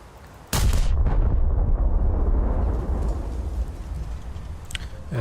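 A heavy naval gun salvo from the battleship Von der Tann in World of Warships booms out suddenly and loudly, then a long, thundering rumble rolls on and slowly fades over several seconds.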